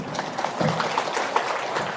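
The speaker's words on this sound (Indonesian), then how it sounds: "Tepuk tangan dulu." Crowd clapping at an Indonesian religious talk, a brief loose patter of many hands with scattered louder claps, fairly close and moderately loud.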